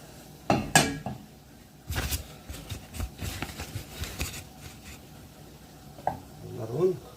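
Flour being stirred into a roux in a pan for homemade lasagne, with scraping and clinking of a utensil against the pan in uneven bursts, close and moderately loud, with no talking.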